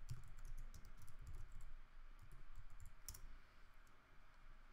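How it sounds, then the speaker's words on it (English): Keys on a computer keyboard tapped out in a quick, irregular burst of soft clicks while a password is entered, close and fairly quiet, with short pauses between clusters of keystrokes. "We should need to type the right password"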